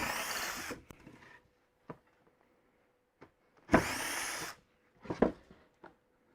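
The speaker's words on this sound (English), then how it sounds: "I can drill from the back, and that will clean off the rubbish from behind" A few short bursts of a power drill with a countersink bit biting into material, separated by quiet pauses, with faint scraping in between.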